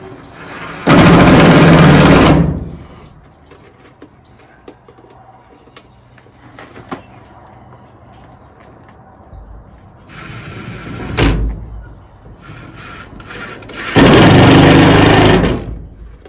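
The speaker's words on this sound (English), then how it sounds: "so I'm going to put my screws in" A power driver whirs in three loud sustained bursts, each a couple of seconds long, as screws go into a pole barn wall, with quiet clatter and shuffling between them.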